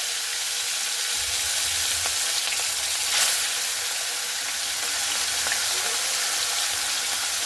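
Large fish pieces, three at a time, frying in smoking-hot oil in a wok give a steady, dense hiss that holds level throughout, with a brief louder crackle near the middle and no talking.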